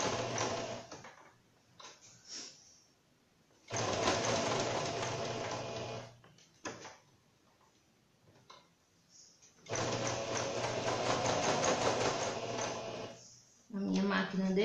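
Sewing machine stitching a placemat runs in long, loud, steady bursts of several seconds each, separated by pauses with faint handling noises and a brief voice at the end.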